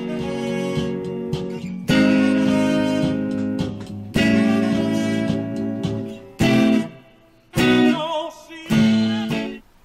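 Electric guitar plays the bridge of a soul song, ringing sustained chords struck in a few separate hits with short gaps and let ring, clear and close.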